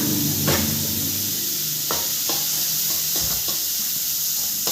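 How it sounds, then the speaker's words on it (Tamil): Chopped onion and green chili sautéing in ghee, a soft sizzling hiss under a few sharp clinks and scrapes of stirring in the pan, close by and with no talk. "நான் ஒரு பெரிய வெங்காயம் குட்டி குட்டியாக கட் பண்ணியிருக்கேன் அதையும் போட்டுக்கலாம் நல்லா வதக்கி விடுங்க"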